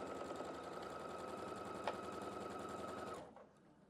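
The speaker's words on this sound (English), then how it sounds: "And sewing. I'm going to do needle down." A sewing machine stitches a quilt block in a fast, steady mechanical chatter close up, then stops abruptly near the end.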